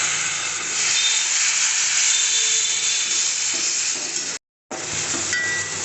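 Spices fry in a pan of oil for a vegetarian butter tarka made with mung lentils, giving a steady, close, bright sizzle and hiss with faint stirring. A short break in the middle drops to silence before the sizzle resumes.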